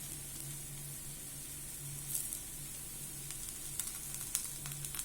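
Bread toast topped with moong dal and vegetables fries in oil on a pan, giving a soft, continuous sizzle with faint crackles and pops and no voices.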